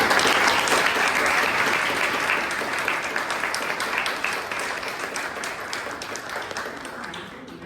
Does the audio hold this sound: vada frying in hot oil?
no